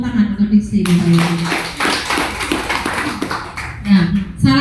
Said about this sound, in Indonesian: Tepuk tangan untuk Diksi Bapak Ibu.